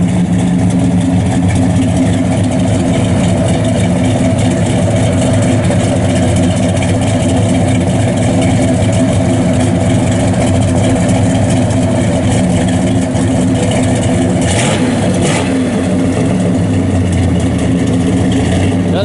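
A 1969 Chevrolet Chevelle SS 396 with a four-speed and a performance cam rumbles loudly and steadily at idle through dual 2.5-inch exhausts with bell tips, a deep lumpy burble with brief blips late on.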